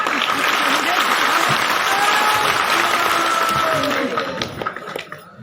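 Dense, loud audience applause fills a poetry recital at a kavi sammelan in Indore, steady clapping that thins and fades over the final second.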